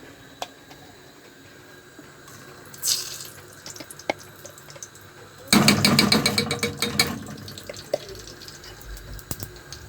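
Rice being washed in a kitchen sink under a running tap, a faint trickle at first, then a louder gush of splashing water in the middle that settles into drips and light sloshing.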